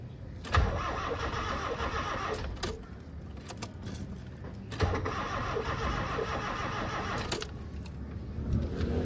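A Nissan Sentra B14 with flooded cylinders, worn fuel injectors and a faulty fuel regulator cranks and catches in repeated start attempts, each burst of engine noise rising and dropping away, close and fairly loud.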